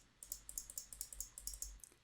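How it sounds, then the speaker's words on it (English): Rapid mouse clicking at a computer while modifier keys are held in After Effects, about a dozen light, sharp clicks in a fairly steady rhythm, close and quiet, with no talking. "Just holding Control-Alt-Shift and clicking."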